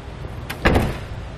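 Rear hatch of a 2012 Toyota opening behind a tilted-down Kuat NV 2.0 four-bike hitch rack: a short mechanical latch click and release followed by a brief rushing swing of the hatch, close and alone.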